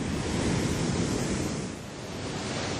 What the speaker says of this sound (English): it's energy captured from the atmosphere that's turned into the brute force of a crashing wave